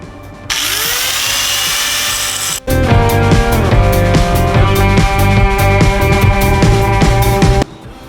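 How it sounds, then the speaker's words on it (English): A flap disc grinder on a GS550 cafe racer fork brace: a high whine spins up, pauses briefly, then grinds harshly with strong ringing tones for about five seconds before cutting off, loud and close with no talk. "I got to get the flap disc out and clean up all this paint on the outside"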